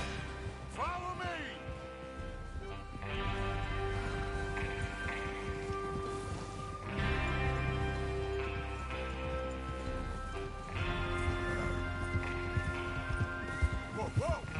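Several horses clip-clop and gallop together in a Red Dead Redemption 2 Wild West train-robbery ride, their hoofbeats steady and close under a rain-like wash and game voices.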